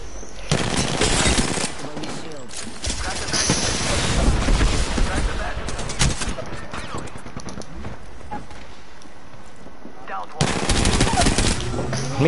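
Video game gunfire, dense rapid machine-gun bursts and shots running loud and close for nearly the whole stretch, with a short lull before a final burst.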